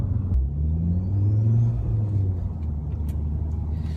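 A modified Ford Focus ST hatchback's exhaust drones loudly from inside the cabin while accelerating in gear, a steady low rumble with rising pitch, and no talking.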